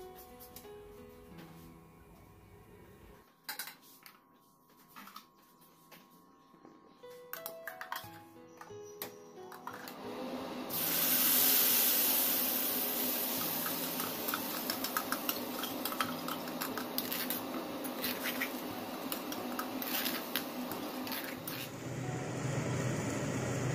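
Spice paste hits hot oil in a wok for an Assamese fish dish. After quiet clinks and ticks, a loud sizzle bursts in and then settles into a steady crackling fry, with no talking.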